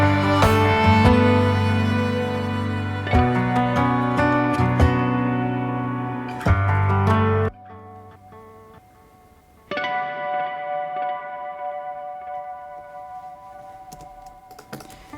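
Electric guitar harmonics ring out with a swirling delay effect inside a dense mix of layered tones, with sustained chords that drop away abruptly and then return, thinning into a quieter, softer passage.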